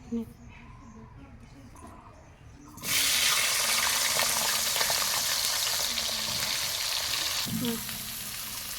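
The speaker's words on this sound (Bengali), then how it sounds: "আলু কলাগুলো মাছ ভাজার তেলে ভালো করে ভেজে নেব" Potato and green banana pieces fry in oil left from frying fish, a steady loud hiss of sizzling that starts abruptly after a quieter opening with faint background sounds and continues without a break.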